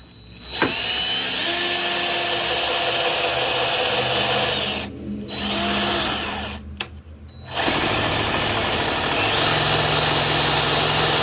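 A power drill fitted with a small bit bores a hole for a chisel plow on a rider lawn mower. It whirs steadily, then cuts out briefly twice before running on.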